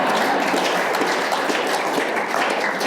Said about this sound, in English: You're not gonna clap?